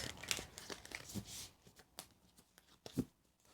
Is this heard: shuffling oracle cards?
yes